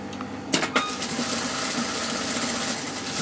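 A sewing machine stitching a double layer of chemise fabric, with a couple of sharp clicks followed by a steady fast mechanical whir running close and continuous, without any talking.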